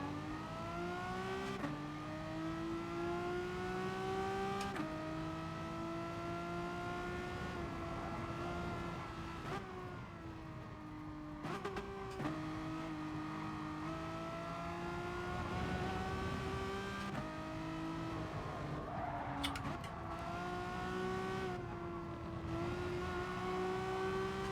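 A BMW M6 race car engine in Gran Turismo Sport, droning steadily with rising and falling revs and brief dips between gear changes, heard alone and continuous throughout.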